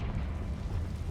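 A Confringo spell blast in Hogwarts Legacy: a brief, heavy, low rumbling burst, loud and dense with no pause, like a fiery explosion.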